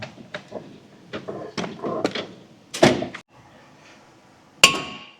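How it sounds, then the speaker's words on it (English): A handful of sharp metallic knocks and clanks of a hammer on a Ford Ranger brake rotor at irregular intervals, close by, ending with one loud ringing strike after a short pause. "Oh, grab a hammer."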